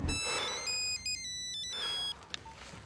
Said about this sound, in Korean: 가비, 기대하고 받은 전화는 여친이 아닌데다가 핸드폰 수신마저 끊어져 버리고 말았죠.